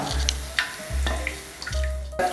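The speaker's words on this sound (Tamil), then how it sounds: "இப்போ இதுல 4 டம்ளர் தேங்காய் பால் இதை ஊத்திடுங்க" Coconut milk is poured into a cooking pot for ghee rice. It makes a liquid splash and trickle with a few soft clinks, close and moderately loud, and there is no talking.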